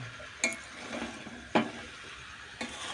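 Ghugni masala being stirred and sautéed in a pan, a soft continuous sizzle broken by three sharp clacks of the spoon against the pan.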